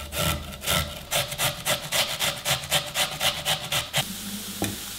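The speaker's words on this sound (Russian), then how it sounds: "Беру 4 картофеля, я их уже почистил, и через мелкую терку начинаю натирать." Rhythmic rasping strokes of four peeled potatoes pushed across a fine kitchen grater, close and steady at about three strokes per second, stopping abruptly near the end.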